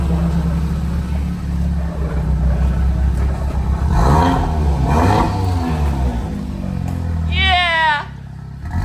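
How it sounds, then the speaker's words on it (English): BMW F80 M3 engine revving up and down in rising and falling sweeps over a steady low rumble, loud and close, with people talking over it and a brief high squeal near the end. "We'll let it warm up, Fudge, and get some revs."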